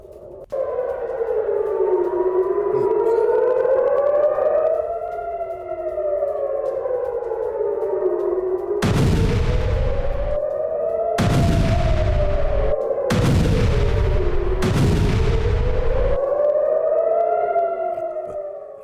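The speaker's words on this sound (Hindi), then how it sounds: "गाजा की तरफ से अभी भी रॉकेट्स के आने का सिलसिला जारी है, और भारी संख्या में रॉकेट्स छोड़े जा रहे हैं गाजा पट्टी से इजराइल की तरफ" Wailing air-raid sirens rise and fall over Israel during rocket fire from Gaza, while four heavy blasts boom in quick succession through the middle, loud and close, with no voices.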